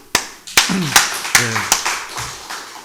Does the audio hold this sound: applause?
yes